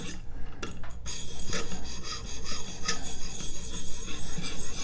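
A knife blade rasps back and forth on a Stonehocker Atopos sharpening stone while a burr is raised, a close, steady scraping with rhythmic strokes and no talking.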